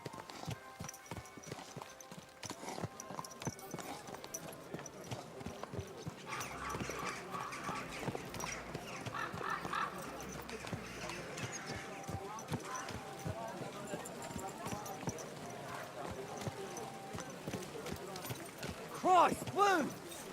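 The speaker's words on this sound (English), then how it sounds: "Watch out with that horse!" Horse hooves clip-clopping in the video game Kingdom Come: Deliverance 2, a steady rhythmic clatter of steps close by, with a whinny and voices talking over the sound.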